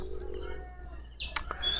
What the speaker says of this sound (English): But now the birds are coming out.